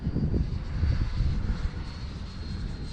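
A Freewing L-39 Albatros RC jet flies past with a steady rushing engine drone that swells and then eases slightly, moderately loud and continuous, with no voices.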